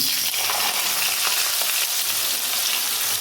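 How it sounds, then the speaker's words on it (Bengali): Mixed vegetables with papaya fry in hot oil for shukto, giving a steady, close sizzle with faint crackles and no talking. "এই তেলের মধ্যে আমি সবজিগুলো ভেজে নিলাম পেঁপে দিয়ে দিলাম"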